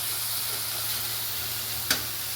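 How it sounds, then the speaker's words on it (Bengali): Ground ginger-cumin and tomato spice paste sizzles in a pan, a steady close hiss with one brief clink near the end. "এই যে মশলাটা ভাজা ভাজা হয়ে এসছে।"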